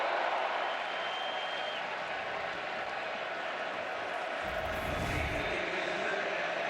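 A loud, steady roar of a big college football stadium crowd at Texas A&M vs Auburn in College Station, Texas, fills the whole stretch, swelling briefly near the end with a deeper rumble.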